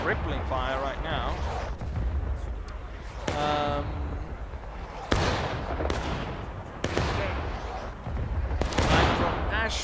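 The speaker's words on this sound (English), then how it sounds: "Seems like they're sort of rippling fire right now." Rippling musket volleys from the American Civil War video game War of Rights, sharp reports crackling in several bursts across the scene, mixed with a talking voice and background game sound.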